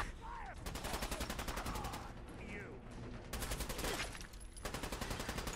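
Automatic weapons fire in rapid, sustained bursts during a Fallout 4 firefight, heard in several long stretches with short lulls between them, steady and fairly close.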